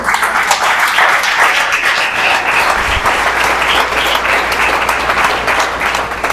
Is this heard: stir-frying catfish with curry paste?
no